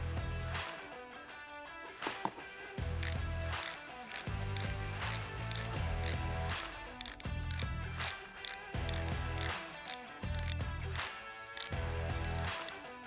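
A ratchet snugs a bolt on a car battery terminal, giving a steady run of quick clicking strokes in regular bursts, close and fairly quiet, with no talking.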